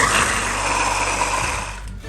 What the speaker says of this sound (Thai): เพื่อนๆก็ใช้เครื่องปั่นเลยค่ะแล้วเพ ื่อนๆก็เทน้ำใส่ลงไปด้วยนะคะ